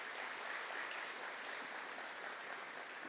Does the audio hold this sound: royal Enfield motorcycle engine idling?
no